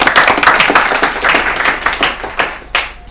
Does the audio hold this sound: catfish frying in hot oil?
no